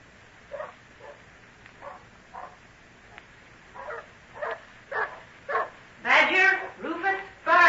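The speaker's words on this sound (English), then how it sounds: "Stop that barking." Several dogs bark in an audio drama, opening with scattered short barks and building to louder, denser overlapping barking near the end.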